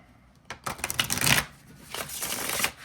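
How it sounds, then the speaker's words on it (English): Tarot cards printed on playing-card stock being shuffled close up, a crisp riffling burst followed by a second softer run of flicking cards, with no talking. "It's such a good shuffle."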